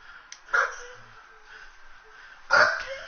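A 100-pound pit bull bully dog gives two short, separate barks about two seconds apart, moderately loud and somewhat distant, over a quiet background.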